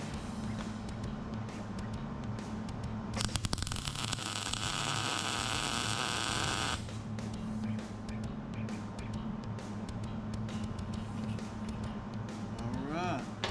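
Tack welding a horseshoe hat hanger together gives one crackling, hissing burst of a few seconds. A steady background hum runs before and after it.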